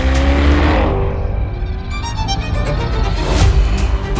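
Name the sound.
Chevrolet Corvette E-Ray 6.2-liter V8 car accelerating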